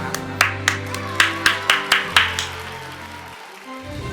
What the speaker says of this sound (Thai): ขอเสียงปรบมือดังๆให้กับท่านประหยัดจันโอชุดครับ